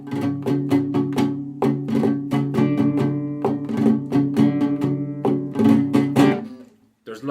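Rumba flamenca guitar playing a rhythmic strumming pattern with the strings pulled down to make a snare-like muted slap, repeated percussive chords up close, with a short gap near the end.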